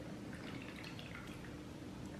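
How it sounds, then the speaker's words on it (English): A lavender essential oil and water mixture is poured into an ice tray, a steady close trickle and splash of liquid running throughout with no talking. "Bring back that ice tray, and we're going to pour these into here."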